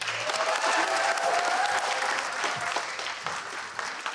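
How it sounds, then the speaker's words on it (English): Audience applause at a graduation ceremony, steady dense clapping from a crowd that holds strong throughout and eases slightly toward the end. "Please give a big round of applause for Maria."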